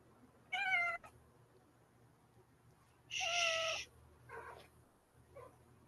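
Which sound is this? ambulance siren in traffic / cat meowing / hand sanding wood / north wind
cat meowing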